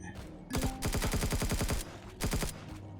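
Ship-mounted weapons fire in Empyrion Galactic Survival as two loud bursts of rapid, evenly spaced shots, a long volley and then a shorter one after a brief gap.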